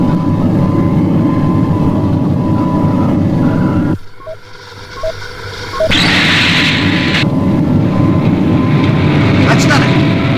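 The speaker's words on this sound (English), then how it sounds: "Full power both engines." Supercar's engines run at full power in a TV sound effect, giving a loud, continuous jet-like roar. It dips briefly midway, then surges back with a higher whine.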